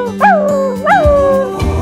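A person imitates the deep bark of a Tibetan Mastiff, giving two drawn-out, howling barks in a row, close and loud, with a falling, whimpering tail on each.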